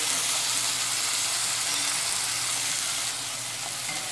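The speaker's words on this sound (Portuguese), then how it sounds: "Vamos botar a cebola aqui, dar uma mexidinha." Onion frying in a pan, a loud, steady close-up sizzle with occasional scraping as it is stirred, easing slightly toward the end.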